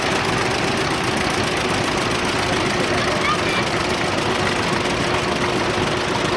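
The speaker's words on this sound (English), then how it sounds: "We have a 1935 John Deere beautiful tractor." A 1935 John Deere tractor engine idles at a town parade with a steady low chugging rumble, loud and close, with a voice speaking faintly beneath.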